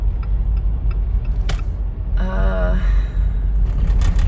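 A car drives along a bumpy dirt road, a steady low rumble of engine and tires with occasional knocks and rattles, close and continuous, with a brief whine in the middle.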